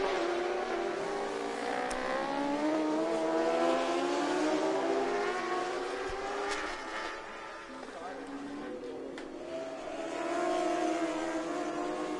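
Honda racing motorcycles scream through the gears at the Motegi circuit during an All Japan Road Race Championship round, engines wailing and shifting pitch continuously beneath a commentator's voice.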